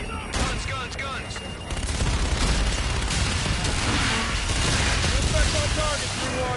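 Sustained rapid aircraft gun run fire in a military video game, a dense continuous roar of shots with booming impacts, steady and loud throughout, with radio-style voices talking over it.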